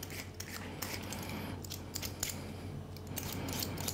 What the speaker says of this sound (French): avec une mandoline, on va couper des fines tranches.